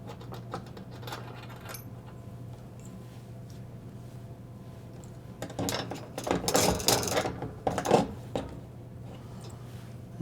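A 1/2-inch wrench loosens two retaining nuts on a Frigidaire dishwasher heating element, giving soft metallic clicks and ratcheting clatter that grow busier and louder midway through, over a steady low hum.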